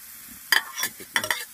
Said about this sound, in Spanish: Hay que revolver para que nuestra mantequilla se derrita rápido.